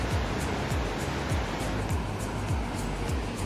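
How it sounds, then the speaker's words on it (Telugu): A fast-flowing river at a rafting spot near Rishikesh makes a steady, loud rushing roar that fills the whole stretch without pause, with faint low rumbles underneath. "సో ఇక్కడ నుంచి వెళ్తారు మన రివర్ రాఫ్టింగ్కి. చూడండి ఆ ఫ్లో ఎలా ఉందో."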